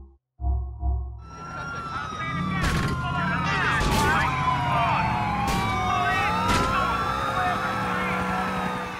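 Police car siren in Grand Theft Auto IV, a continuous wailing tone sweeping up and down, loud and sustained through most of the clip, with game sounds and a voice talking over it.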